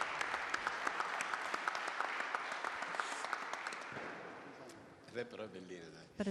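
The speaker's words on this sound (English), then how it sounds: "Let's give him an applause." Audience applause at the official presentation of the 1000 Miglia 2023, a steady, moderately loud patter of many hands clapping for about four seconds, then fading as a speaker resumes talking.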